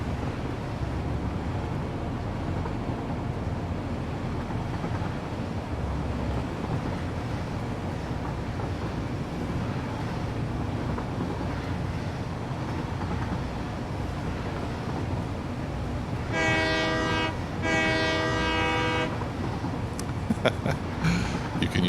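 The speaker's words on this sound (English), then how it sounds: "You can use the left mouse button for the horn." A train rolls along in the video game Satisfactory with a steady low rumble, then two loud blasts of its horn sound close together near the end.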